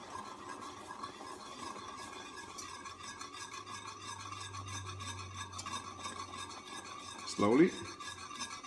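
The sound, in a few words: whisking heavy cream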